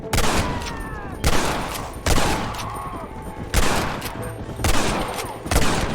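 Repeated gunshots ring out in a Red Dead Redemption shootout with rustlers near a cattle herd, about six sharp loud blasts spaced roughly a second apart, each trailing into echoing gunfire and game noise.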